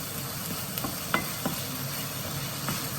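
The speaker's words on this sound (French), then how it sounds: "Je n'oublie pas de mélanger, voilà, ma volaille." Chicken frying in a pan with coriander for samosa filling, stirred with a utensil, giving a continuous close sizzle broken by a few soft scrapes and taps, with no talking.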